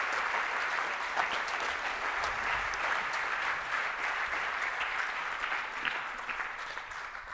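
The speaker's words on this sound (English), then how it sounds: "So maybe another round of applause for Kate and Kamana" A conference audience applauds steadily for the whole stretch, many hands clapping in a dense, even patter that stays loud throughout and eases off only slightly at the very end, with no talking over it.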